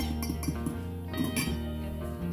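A spoon clinks against a cup while stirring sugar into liquid for bread yeast, a series of light, quick metallic taps repeating steadily and close by.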